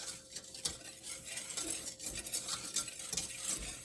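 Whisk scraping and tapping through cornstarch in a hot pan, quiet metallic clinks and stirring strokes in an irregular rhythm, close and soft with a faint sizzle beneath.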